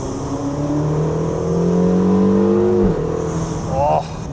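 A 560-horsepower Ferrari California T engine accelerates in a rising, loud, close drone that climbs steadily in pitch, drops away at a gear change, then climbs again briefly. A voice can be heard faintly beneath it.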